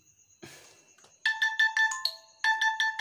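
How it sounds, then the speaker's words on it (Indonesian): An Infinix Note 10 Pro phone sounds its anti-theft alarm after being unplugged, a loud, close electronic tone pattern pulsing in rapid repeated beeps, a pause, then another burst, with a brief rustle of handling at the start. "ketika ada yang nyabut handphone kita tanpa sepengetahuan kita itu dia bakal bunyi"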